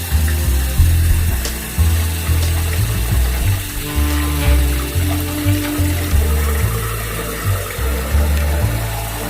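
Water runs steadily from a tap while a makeup brush is rinsed at a sink, a continuous rushing wash with a rhythmic low pulsing underneath, close and fairly loud, with no talking.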